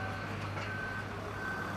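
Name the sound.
lorry reversing with reversing beeps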